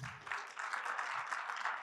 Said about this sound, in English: everybody give Hillary a round of applause